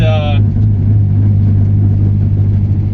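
A turbocharged Nissan 240SX with a shop-vac intake rumbles at low revs as the throttle is released, its exhaust droning and vibrating loudly in a steady, heavy hum, with a brief higher tone at the very start.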